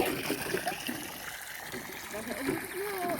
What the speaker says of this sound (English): I was gonna fill the goat's water.